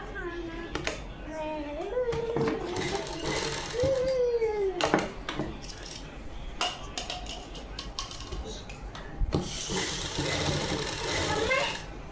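A sewing machine stitches a Punjabi suit kameez in stop-start bursts of whirring with rising and falling motor whine, broken by short clicks and pauses, while a voice talks now and then.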